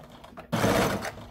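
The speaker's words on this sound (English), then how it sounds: "we're going to sew down with the bottom" A sewing machine stitches down the bottom seam of an arched fabric face mask, a steady rapid whir that starts abruptly after a quiet pause and runs loud and close for most of the second.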